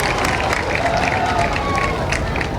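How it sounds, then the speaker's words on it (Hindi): Crowd applause at a large outdoor political rally in Gorakhpur as a cheque is handed to a beneficiary on stage: a dense, steady wash of clapping and crowd noise that holds for the whole stretch. "तालियां बजती रहें"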